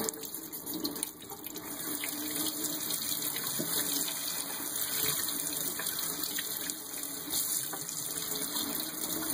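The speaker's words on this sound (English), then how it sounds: "just rinse the whole fish off" Tap water runs steadily while a rainbow trout is rinsed at a sink, a close, continuous hiss and splatter with small shifts as the fish moves under the stream.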